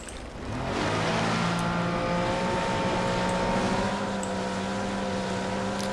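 A vehicle engine in the game Far Cry 4 revs up steadily and holds a loud, droning whine with rising harmonic tones, running continuously and close for several seconds with no talk over it.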